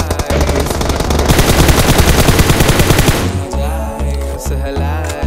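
Gunfire from a Kar98 bolt-action rifle and other weapons in a video game, with a dense rapid burst of shots for about three seconds, then scattered loud single reports.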